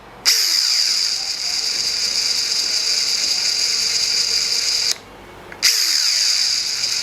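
A Makita 40V TD001G cordless impact driver backs out a screw, a loud, steady mechanical whir running about five seconds, a brief pause, then a second burst starting up again, with no talking.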